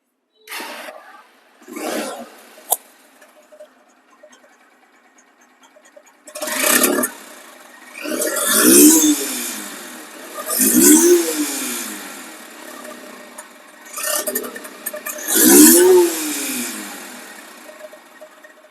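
A Honda X Blade ABS motorcycle engine with about 1800 km on it, heard starting with a few short bursts, then revved repeatedly in loud rising swells with idle in between, close by with no talking.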